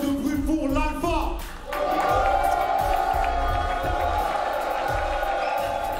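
A large crowd packed into a full pit at a rap contenders event cheers and roars steadily for a rapper, a dense wash of noise under a host's amplified voice at the start.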